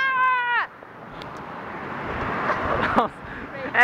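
A single drawn-out cat meow at the start, followed by ambient street or city noise with faint background activity.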